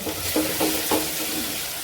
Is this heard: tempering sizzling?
yes